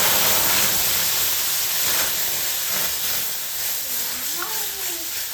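Liquid milk poured into semolina fried in hot ghee gives a loud, continuous steamy hiss that eases slightly toward the end, with no voices over it.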